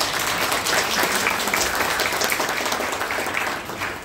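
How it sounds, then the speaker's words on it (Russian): Audience applause at a presentation evening of an author's song festival, a dense, steady wash of clapping from a crowd that fades slightly near the end. "Аплодисменты, друзья!"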